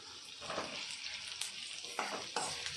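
Potato pieces tossed into a hot frying pan with salt and spice powder for a home vegetable curry, a soft steady sizzle broken by several scraping stirs close by, with no speech.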